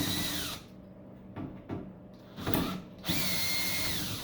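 Power drill backing screws out of an older large battery charger, bursts of whining motor that rise and stop, with brief gaps of quiet handling between them.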